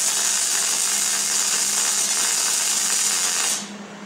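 A MIG welding arc crackles and sizzles in a steady, dense hiss much like bacon frying, close and loud, then cuts off abruptly near the end.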